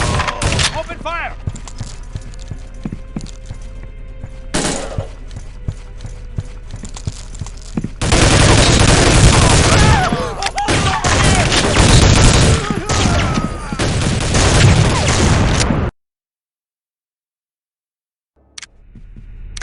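Gunfire in the Soldier of Fortune 2: Double Helix shooter bursts out in rapid, loud volleys, heaviest in the middle stretch, mixed with voices and game noise before cutting to silence near the end.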